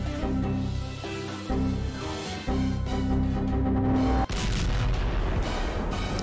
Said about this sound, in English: Hey, what was that explosion?